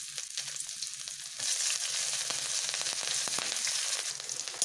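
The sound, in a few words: ginger, garlic and green chilli frying in chicken oil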